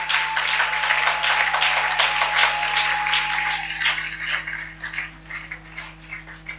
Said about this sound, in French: Acclame très fort. Put your hands together.